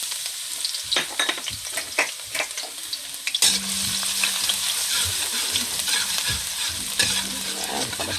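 Garlic sizzles in a hot pan, with stirring and clinking at first, then a steady, loud frying hiss from about three seconds on, with faint scraping over it.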